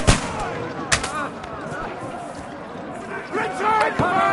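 Crossbow volley in a medieval battle in the game Kingdom Come II, sharp releases and thuds in a quick cluster at the start and again near the end, amid shouting soldiers and battle noise.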